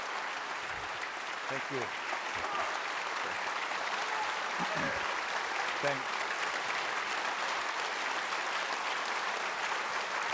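An audience applauds a guest at a lecture and book event: sustained, dense clapping from a full house, with a few brief spoken words heard over it.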